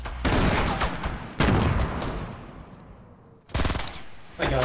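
Fortnite gunfire, with rapid loud bursts of shots starting and stopping in quick succession, loud and close, with a quieter tail between bursts.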